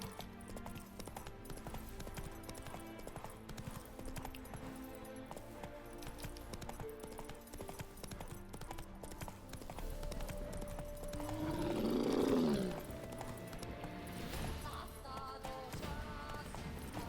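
A horse gallops in the video game Witcher 3, with rhythmic hoofbeats running throughout and a neigh rising briefly near the end over a faint game soundscape.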